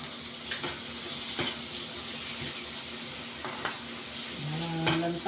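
Tomatoes and onions sautéing in a pan for a coconut-milk vegetable dish with anchovies, a soft steady sizzle with occasional clinks and stirring scrapes close by.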